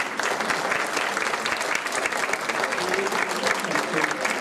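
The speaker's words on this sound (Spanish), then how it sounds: "primero un aplauso para" Continuous audience applause fills a lecture hall at a talk on historic haciendas, steady and dense for the whole stretch with no voices on top.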